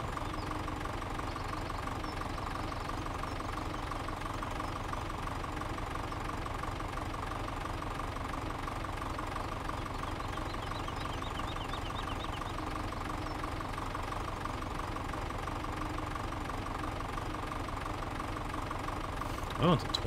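Small tractor in the Farming Simulator 17 video game idling while filling with water, a steady low mechanical drone with a faint rattling knock that holds evenly for the whole stretch, quiet and continuous.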